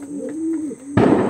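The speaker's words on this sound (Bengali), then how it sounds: "একদম অরিজিনাল পিওর ব্লাডের পায়রা বন্ধুরা" A pure-blood racing pigeon gives one clear, close, drawn-out coo that swells and fades, then a sudden loud burst of broadband rustling noise cuts in.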